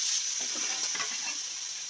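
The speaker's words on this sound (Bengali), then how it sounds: "এর মধ্যে দিয়ে দেবো আগে থেকে সেদ্ধ করা কড়াইশুঁটি" Boiled green peas tossed into hot oil with fried spices and asafoetida for pea kachori filling, giving a steady close sizzle with light stirring through a short stretch.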